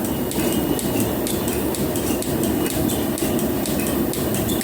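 Metal planer taking a cut across a steel workpiece, a loud continuous grinding rumble with a steady chattering rhythm of small knocks as the chip peels off under the tool.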